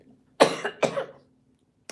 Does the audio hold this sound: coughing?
yes